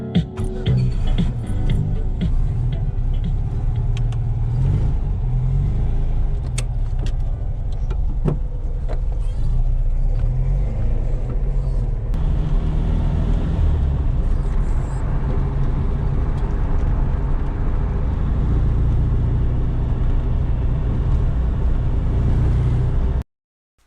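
A vintage car drives along with a steady, loud engine drone and road rumble that runs without a break, with no talk over it, then cuts off abruptly at the end.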